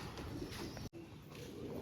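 Soft pigeon coos murmur faintly and close by in a quiet space.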